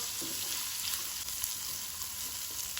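Onions frying in a pan for masala dosa, giving a steady bright sizzle close by with faint scraping as they are stirred, and no talking.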